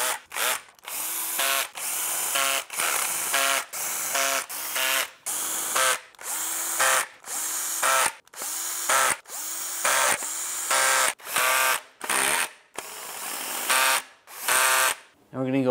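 Power tool tightening the oil pan bolts on a 1998–2010 Volkswagen Beetle, about fifteen short whirring bursts in quick succession with brief pauses between them, loud and close.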